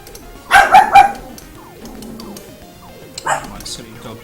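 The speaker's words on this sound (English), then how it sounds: "My silly dog barks again." A dog barks close by in a home, giving a quick burst of several loud barks and then a shorter pair later, over a quieter electronic game soundtrack.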